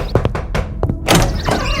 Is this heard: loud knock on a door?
yes